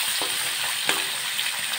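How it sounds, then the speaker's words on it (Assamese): Fish frying in oil in a pan, turned over partway, giving a steady close sizzle with a couple of soft scraping stirs and no voices. "এনেকৈ অলপ দিয়াৰ পাছতে লৰাই দিব লাগে মাছটো"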